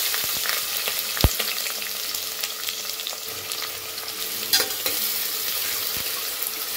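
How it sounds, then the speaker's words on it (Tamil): Sliced onions frying in oil inside a pressure cooker, a steady bright sizzle with crackling pops and one sharp tap, no talking. "அந்த வெங்காயத்தை இப்படி எண்ணெயில் சேர்த்துறேன்."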